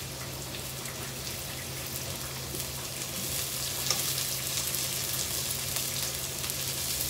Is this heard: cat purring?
no